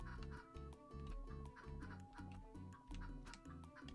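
Chicken clucking in the video game Turnip Boy Commits Tax Evasion, brief clucks scattered over a steady, beat-driven game soundtrack that carries most of the sound.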